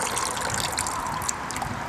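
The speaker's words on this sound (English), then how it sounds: "So when I pull the pot out, the water drains" Water drains from a bonsai pot in a steady, close trickle of dribbling liquid, with no talking over it.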